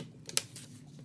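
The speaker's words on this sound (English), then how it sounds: "Let's see what happens if I do the little scoring technique." Cardboard being scored and torn while making paper shoes, a quick scrape followed by one sharp ripping burst, close and fairly quiet, with no talking.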